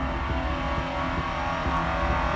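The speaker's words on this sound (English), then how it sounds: "the traffic is suddenly a lot" Futuristic city traffic in the video game Omikron: The Nomad Soul hums as a continuous, dense engine drone with faint repeating pulses, steady and moderately loud with no voices.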